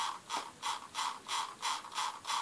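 The scroll wheel of a Logitech Performance Mouse MX turns in ratchet mode, producing six even bursts of rapid mechanical clicking, each roughly a third of a second long, close and clear in a quiet room.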